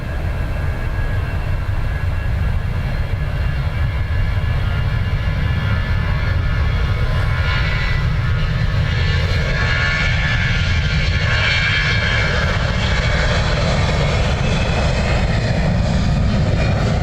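Air France airliner engines idling and rumbling on the runway at Dublin Airport, a steady loud low roar that lasts throughout with no voices over it.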